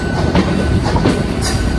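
Steady rhythmic clatter and rumble fill the interior of a moving Delhi local train, loud and close, with wheels clacking over rail joints and no talk.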